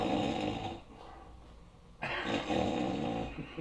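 A man imitates the snoring of a sleeping hunting companion inside a deer blind, giving a few close, rasping snore-like breaths with a short quieter gap in the middle.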